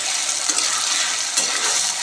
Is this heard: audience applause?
no